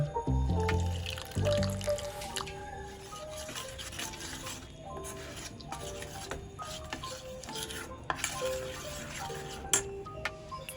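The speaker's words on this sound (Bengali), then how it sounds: "এবার জলে গুলে ব্যাটারটা তৈরি করব।" Fish fry batter of flour, salt and chili powder is stirred with water in a bowl, giving soft, wet swishing and irregular light clinks up close, fairly quiet.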